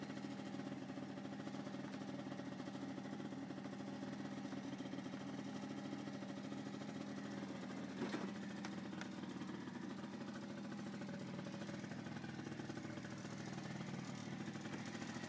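A small Honda Aero 50 scooter engine idles steadily, a continuous low putter with no voices, holding an even level throughout.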